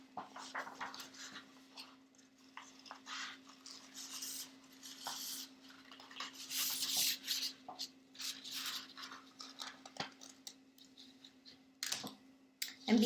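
Scissors cutting out a folded paper fin shape, soft irregular snipping and rustling of the paper at close range, with a faint steady hum underneath.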